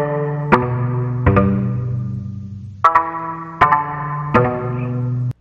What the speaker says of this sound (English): if you want two notes, it's gonna sound like this